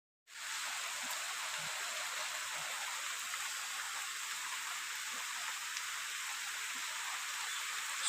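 Heavy rain falls outdoors in a steady, dense hiss that starts abruptly and continues unbroken for several seconds, fairly soft overall with no voices.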